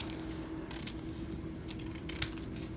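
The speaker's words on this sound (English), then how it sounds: "I'm going to trim back the white a little bit" Scissors snip through the white edge of paper for a tall junk journal envelope, giving a few quiet cuts and one sharper, closer snip near the end against a soft background hiss.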